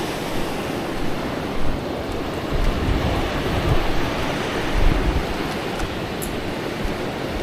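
Sea waves wash at Bukana in a steady broad roar of surf, with low gusts of wind buffeting the microphone now and then. No one speaks over the water.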